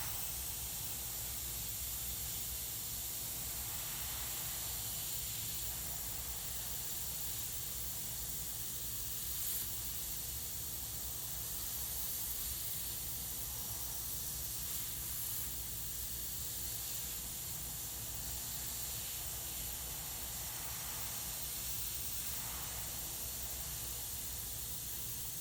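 An airbrush sprays paint over a skull template in a steady, unbroken hiss of air and paint that holds at an even level for a long stretch with no pauses.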